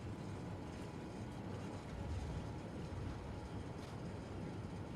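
Low, steady diesel rumble of a Class 66 freight locomotive easing off the throttle in the train simulator Train Sim World 2 on an East Coastway route, a continuous droning engine bed with no talk over it.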